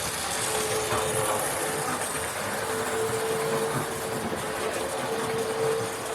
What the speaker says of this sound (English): this locomotive is a very, very nice little runner going around the track tonight